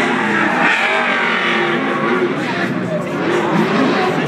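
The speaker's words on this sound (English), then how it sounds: "That noise you hear right now is the trucks." Hot rod trucks rev and roar at an outdoor show at SEMA in Las Vegas, a loud, sustained engine roar with rising revs and tire noise, while people talk over it nearby.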